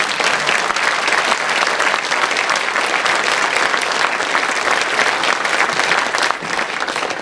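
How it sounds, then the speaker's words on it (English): Sustained applause from the audience at a Davenport police department promotions and recognitions ceremony, dense, even clapping that stays loud and steady throughout with no speech over it. "one more round of applause for all the"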